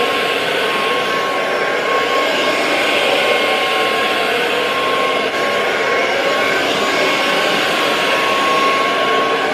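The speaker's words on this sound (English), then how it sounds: "If I blow dry it" Blow dryer running steadily at close range while hair is dried, a loud constant airy roar with a faint motor whine that holds unchanged throughout, with no speech.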